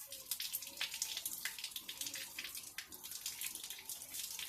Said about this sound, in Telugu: ట్యాప్ ఆఫ్ చేయి, ట్యాప్ ఆఫ్ చేయి, ట్యాప్ ఆఫ్ చేయి